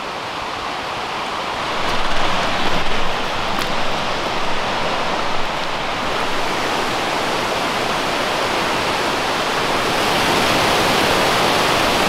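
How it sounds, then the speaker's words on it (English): A massive, misty waterfall near Bend roars loudly and continuously, a dense rushing wash of falling water with wind gusting over it. "The only problem with this waterfall is there's so much mist."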